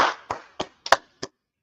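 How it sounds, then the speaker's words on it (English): Five sharp hand claps at a slow, uneven pace ring out at a church gathering, each one distinct and followed by a short decay, with no voices. "let's clap it up for the Most High God"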